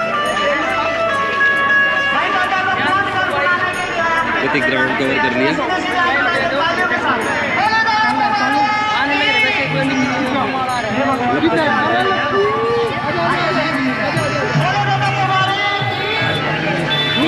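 Dense, noisy crowd babble fills a busy langar community kitchen at a bhandara, many voices chattering close and far without pause, with someone talking over the din.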